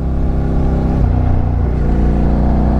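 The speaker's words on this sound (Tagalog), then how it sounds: "Iyak na yung makina ko kasi pataas siya eh." A Reed SVT 650X motorcycle engine labors on an uphill climb, a loud, close, steady droning rumble with a slight shift in pitch midway as the load changes.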